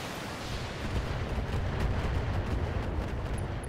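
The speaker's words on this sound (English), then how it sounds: "Let's unload some missiles into him." Missiles launched in the BattleTech video game, a dense, continuous barrage of booming low rumble and crackling blasts that stays loud and steady throughout, with no voices over it.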